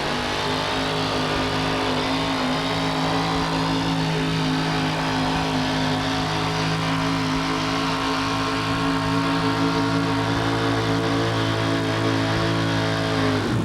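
A General Motors of Canada pulling truck, the Canadian Warrior, roars at a steady high rev through a full sled pull at a truck pulling event, its engine note loud and continuous with deep harmonic drone throughout.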